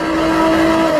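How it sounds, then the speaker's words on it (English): Engine note from a 2020 Jaguar F-type sports car through its switchable active exhaust, a loud, steady sustained tone holding one pitch for the full second with no voices. "The F-type is equipped with a switchable active exhaust system, which means you can choose between a refined engine note or being heard long before you are seen"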